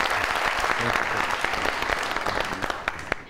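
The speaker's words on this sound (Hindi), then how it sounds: "बहुत सारी तालियों में" Studio audience on a TV talk show breaking into sustained, dense applause to welcome a guest, loud and close, steady for the whole stretch.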